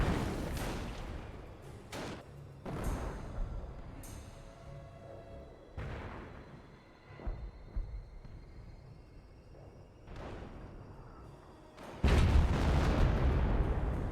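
Artillery barrage in a war video game: scattered heavy booms and blasts land at irregular intervals over a low rumble, ending in a louder, sustained roar.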